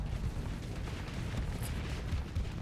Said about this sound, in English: Those cannons still doing their job.